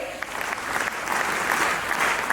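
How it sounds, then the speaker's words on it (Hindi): Audience applause welcoming performers onto the stage at a school Republic Day event, a dense and steady wash of clapping that builds slightly and holds throughout. "तालियों के साथ उनका स्वागत करें।"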